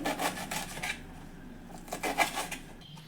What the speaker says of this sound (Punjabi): ਇੱਥੇ ਨਾ ਆਪਾਂ ਹੁਣ ਧਨੀਆ ਤੇ ਮੇਥੀ ਬਰੀਕ ਬਰੀਕ ਕੱਟ ਲਵਾਂਗੇ